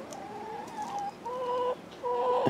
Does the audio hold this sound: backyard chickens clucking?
yes